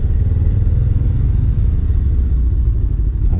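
Many motorcycles crowd a vehicle registration site in Quito, their engines rumbling loudly and steadily at close range with a dense, continuous low idle.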